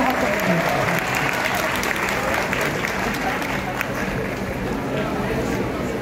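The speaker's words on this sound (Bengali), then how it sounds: "আপনারা কি জোরে হাত তালি" A large crowd claps loudly and continuously at a Bengali film event as a film star arrives, a dense unbroken roar of hands with some crowd noise mixed in.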